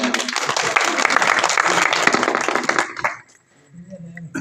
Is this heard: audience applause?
yes